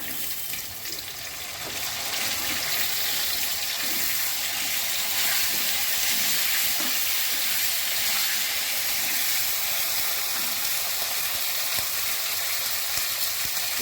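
Potatoes and flat beans fry in a pan after a nigella seed tempering, giving a loud, continuous hissing sizzle that swells after the first couple of seconds, with faint stirring scrapes underneath and no voices.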